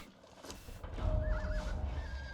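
A white horse in the Conan Exiles video game gives a clear, close whinny that rises and wavers, heard alone over low ambient game background with no talk.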